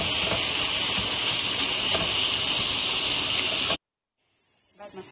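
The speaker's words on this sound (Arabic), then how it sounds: "راح أحط عليه اللحم المفروم وراح أحمر اللحم مع البصل." Minced meat and onions fry in a pan with a steady, loud sizzling hiss for several seconds, then it cuts off abruptly, leaving faint handling sounds.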